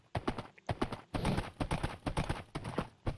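Rhythmic clip-clopping of horse hooves in Minecraft 1.14 Beta as the rider gallops, loud close bursts of rapid hoofbeats broken by brief pauses, with no speech.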